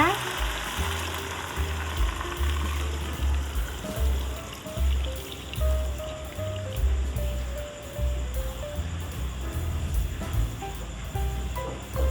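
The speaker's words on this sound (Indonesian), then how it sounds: "Kita masukkan santannya." Coconut milk poured into a pot of gulai cubadak, young jackfruit curry with chopped beef, Padang style, sizzling and bubbling steadily on the heat with a continuous liquid wash and no talk.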